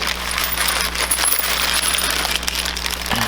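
Loose metal hardware bolts for a Curt trailer hitch on a 2016 Mazda CX-5 clink and jingle together up close in a bright, continuous metallic rattle.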